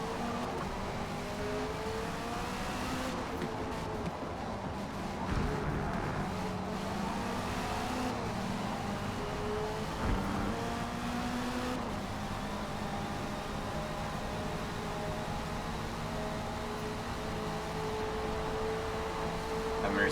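Group C race cars, including a Mercedes, drone and whine along the Grand Oak circuit in Forza Motorsport, a steady engine roar with shifting pitch as cars pass near, with no one talking.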